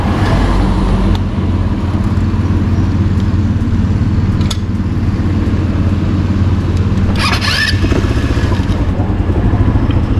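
ATV engine running loud and close with a steady low rumble throughout, plus a few clattering knocks from the vehicle; the ATV has a faulty reverse gear.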